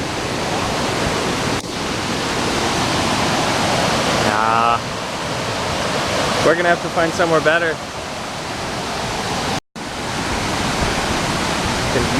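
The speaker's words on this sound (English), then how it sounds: "we're already at the first waterfall" A waterfall beside a hiking trail pours a loud, constant rushing roar that fills the scene, with someone talking briefly over it partway through.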